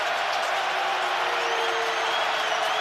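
A full stadium crowd at an NFL game between the Chiefs and Ravens makes a steady, loud, dense roar that holds without a break.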